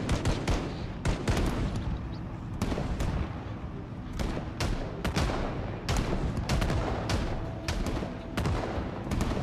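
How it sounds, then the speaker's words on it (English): Rapid gunfire in Project Zomboid near military dorms, a dense barrage of sharp cracks and bursts in irregular clusters, loud and close throughout with no pauses of real quiet. "you love to hear the sound of gunfire"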